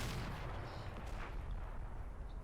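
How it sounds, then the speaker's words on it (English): A distant anti-tank gun shot booms across a Combat Mission battlefield in World War II Normandy hedgerow country, a single muffled report rolling under a steady low rumble of ambient battle noise, with no talking. "It sounded like we had an AT gun go off there"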